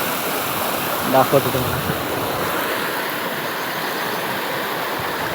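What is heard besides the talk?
stream flowing through bushes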